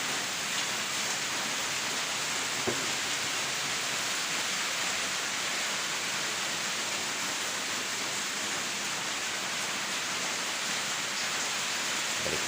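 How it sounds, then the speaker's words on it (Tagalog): Steady, dense rain falling continuously, a broad even hiss with no breaks, close and fairly loud. "Hindi pa rin kasi tumitila yung ulan."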